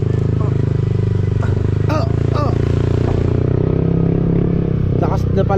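Loud motorcycle engines roar continuously close by, with a steady low rumble and brief revs as bikes pass, while voices chatter over the engine noise.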